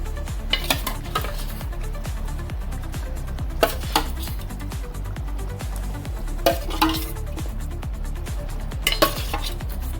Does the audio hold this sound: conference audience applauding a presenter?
no